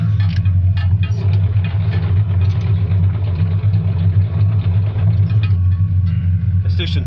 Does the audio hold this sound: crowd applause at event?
no